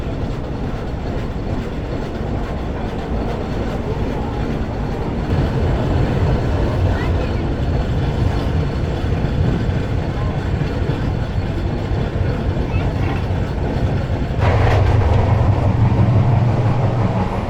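Bihar Sampark Kranti express train pulling into Siwan Junction: a steady, close rolling rumble that grows heavier toward the end, with voices and station bustle mixed in.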